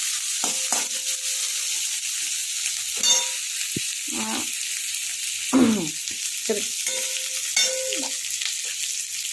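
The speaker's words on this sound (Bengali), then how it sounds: "একটু ফ্রাই করে ভেজে নিই।" Lote shutki, a Bengali dried fish, frying in hot oil, heard as a steady close sizzle with intermittent stirring scrapes and clatters of a spatula against the pan.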